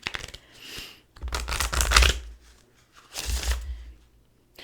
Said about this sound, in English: the shuffle is being weird